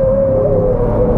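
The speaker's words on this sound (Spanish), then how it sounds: "Las ruedas que chillan son las delanteras" Front tyres of a 2023 Ford Ranger Raptor pickup squeal in a loud, sustained tonal whine that wavers slightly in pitch, riding over a constant rumble of engine and road noise.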